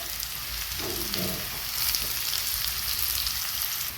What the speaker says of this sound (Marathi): कांदा आपण उभा कट करून घेतलेला आहे हा छान ब्राऊन होईपर्यंत भाजून घ्यायचा